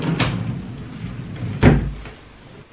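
A drawer in a large craft cupboard slides open with a soft scrape and a firmer wooden knock near the middle, fairly close, no talk.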